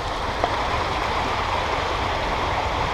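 McVicker's Creek flows with a steady, even rush of water, a constant close wash with no breaks, heard alone.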